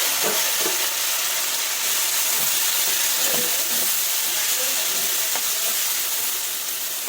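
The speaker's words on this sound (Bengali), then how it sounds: "ভেজে নেব আর ভাজার সঙ্গে সঙ্গে সেদ্ধও হয়ে যাবে" Potatoes and ridge gourd fry in a pan with a loud, continuous sizzle and hiss, with occasional stirring scrapes and no voices.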